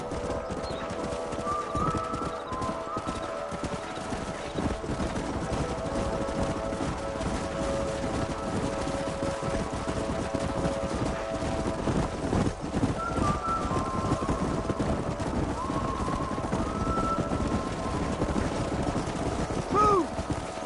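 Horse hooves clip-clop rhythmically and continuously in the Red Dead Redemption video game, close and steady, with an occasional whinny, faint bird calls and some background voices.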